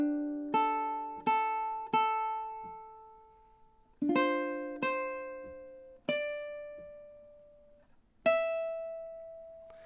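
Ukulele playing two measures of a song: seven separate plucked chords and notes, each ringing out and slowly fading, with no voice.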